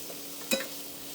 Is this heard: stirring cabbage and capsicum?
yes